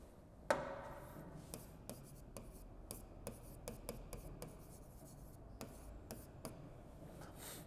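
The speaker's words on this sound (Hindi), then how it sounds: "चलो इसको लिख ही देते हैं पूरा फिर से।" Writing out a mechanics equation by hand, with faint scratching strokes and sharp taps of the pen or chalk against the surface, recurring irregularly in a quiet room.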